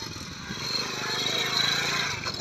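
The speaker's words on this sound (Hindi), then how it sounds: "अभी मैं चलने लगा हूँ बाइक पर।" A motorcycle engine runs steadily as the rider sets off on his bike, a continuous buzzing drone that swells slightly without dropping out, with no talking.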